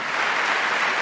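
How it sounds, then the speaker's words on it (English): Applause from the Democrat side of the chamber during a presidential address to Congress, a dense, steady wash of many hands clapping, brief and uniform, with no speech. "who is that clapping on the Democrat side?"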